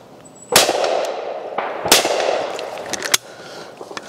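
Shotgun blasts from a new SPZ Ladies gun with a recoil system and Monte Carlo stock, fired at clay targets outdoors: two loud, sharp reports spaced over a second apart, then a smaller crack, with echoing tails.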